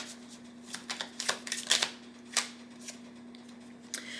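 A deck of tarot cards shuffled by hand, giving a run of soft, quick riffling flutters and taps close up, with a steady low hum behind and no talking.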